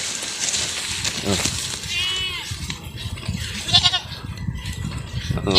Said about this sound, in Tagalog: Kakain na kaya yung kambing natin dito, guys.